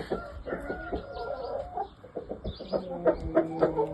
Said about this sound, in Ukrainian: Ось такі півники наші, такі курочки